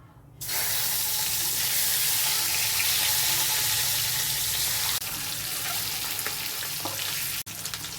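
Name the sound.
frying eggs in oil with turmeric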